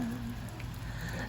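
Rain falls steadily after a long dry spell, a soft, even hiss of drops on surfaces with a faint low hum underneath.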